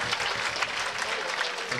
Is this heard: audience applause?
yes